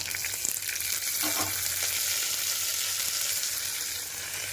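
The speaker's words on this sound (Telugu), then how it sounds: "ఇప్పుడు ఇందులో మొత్తం ఐటమ్స్ వేసుకుందాం ఫస్ట్గా పచ్చికందులు" Onions and fresh pigeon peas frying in a pan for an eggplant and cauliflower curry, a steady loud sizzle with some stirring scrapes and no talk.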